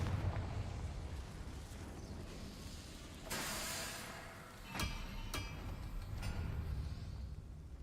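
A Confringo spell explosion in a video game: a few sharp, broadband blasts over a quiet, rumbling background, fairly faint overall, with one longer burst followed by two quick cracks.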